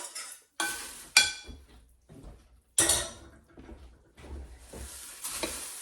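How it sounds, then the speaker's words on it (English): A spoon stirs a freshly boiled mixture into breakfast cereal in a bowl, making a series of irregular, close scraping clatters separated by short pauses. "And just stir to coat it"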